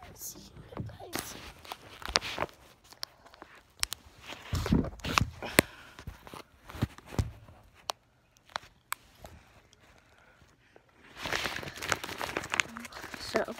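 Crinkly plastic blind bags rustle and crackle in uneven bursts as they are opened, close up, with a person talking intermittently over the handling noises.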